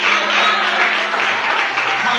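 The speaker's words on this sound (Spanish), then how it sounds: "denle un aplauso a Cristo" A church congregation applauds in a dense, steady burst of clapping that fills the room, loud and sustained throughout, with faint voices mixed in.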